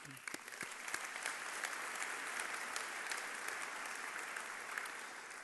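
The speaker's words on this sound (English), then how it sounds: "Give yourself a round of applause, please." A convention audience at an Air Force Reserve Command keynote breaks into steady, dense applause that fills the hall evenly for several seconds without letting up.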